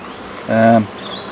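A brief buzzing hum of honeybees on hive frames with a clear pitched tone rises for a moment, then fades back into a soft background drone.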